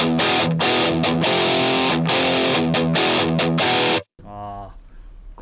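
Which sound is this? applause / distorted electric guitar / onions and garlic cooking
distorted electric guitar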